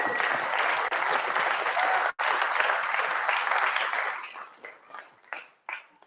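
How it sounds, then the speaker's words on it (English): Crowd applause for sponsors at a kayak series live awards show: thick, steady clapping that breaks briefly, resumes, then dwindles into a few scattered claps. "So let's give them all a round of applause."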